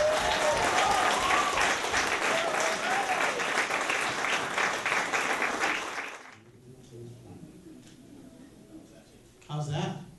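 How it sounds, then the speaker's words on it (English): An audience at a summer jam camp music concert breaks into loud, dense applause for about six seconds, which then drops away to quiet murmuring and a voice speaking. "Give yourselves a round of applause."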